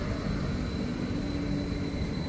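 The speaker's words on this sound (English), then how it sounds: "Bye, train." A train pulls away from a station platform, a steady broad rumble and hiss of wheels and motors filling the whole stretch with no voices.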